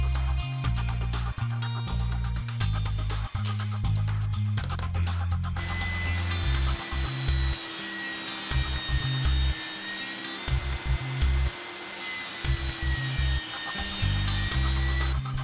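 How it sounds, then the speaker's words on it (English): Wood boards being sawn with rough, rhythmic rasping strokes, followed by a continuous whining power saw cutting through a board. "I'll cut the sides to length."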